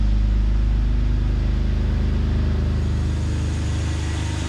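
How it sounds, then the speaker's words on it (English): A car engine idles steadily up close, its deep, even rumble holding at a constant level throughout with a slight rhythmic pulse and no talking. "Let me go start this car up, and this is gonna show us right away where you're at."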